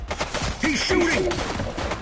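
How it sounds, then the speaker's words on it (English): Bursts of gunfire in the police game The Precinct, sharp repeated shots mixed with overlapping shouted radio and officer voices, loud and close throughout. "He's shooting!"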